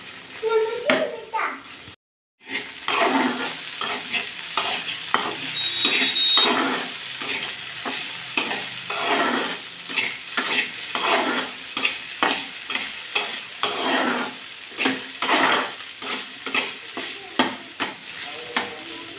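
Okra pieces frying in a pan are stirred every few minutes by hand, a steady crackling sizzle broken by repeated scraping strokes of the spoon, close up and fairly loud, with a brief silent gap near the start.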